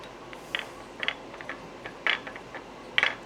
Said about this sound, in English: I'm gonna chase the threads one more time